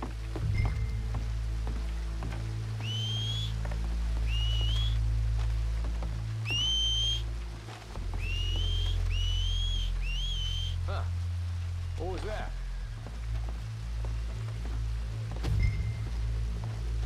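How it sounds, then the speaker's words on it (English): A character in Red Dead Redemption 2 whistles toward the water, about six short rising whistle notes in pairs, heard over a steady low rumble and hiss of ambience and occasional sharp clicks. "Make a noise, whistle or something."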